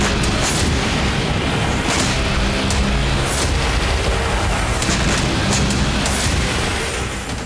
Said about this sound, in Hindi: एक साथ कई धमाके और एक झटके में पूरा का पूरा इलाका कुछ इस तरह से खंडहर में